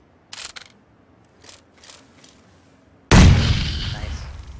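A frag grenade explodes in the PUBG video game with a sudden loud, close boom and long decaying rumble, preceded by a few faint clicks and small knocks.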